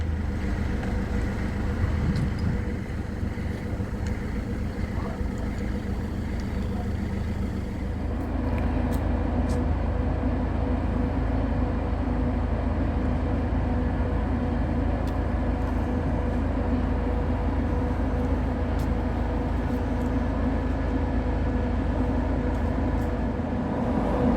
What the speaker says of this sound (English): Can you hear the fans in the fan room?